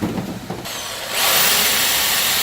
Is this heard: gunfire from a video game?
no